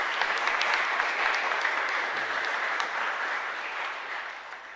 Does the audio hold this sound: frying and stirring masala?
no